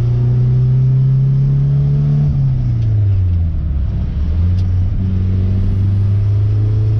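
A 1969 Toyota Corona with a swapped 4AGE engine pulls hard through second gear, its loud close engine note rising steadily, dipping briefly as revs drop, then climbing again, with no talking.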